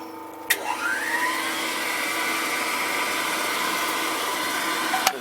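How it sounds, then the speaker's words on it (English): A homemade sanding disc machine runs steadily, its whine rising as it spins up, with an old vacuum cleaner drawing dust extraction underneath; a continuous, fairly close motor drone with brief knocks at start and end. "Dust extraction fitted by means of an ancient vacuum cleaner down there."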